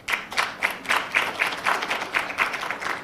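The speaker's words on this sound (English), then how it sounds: "Can we clap hands for them?" Audience hands clap in a quick, steady rhythm at an event for content creators, close and moderately loud, a sparse group clapping rather than a roaring ovation.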